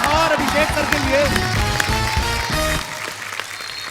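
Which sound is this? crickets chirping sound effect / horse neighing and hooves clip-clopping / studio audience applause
studio audience applause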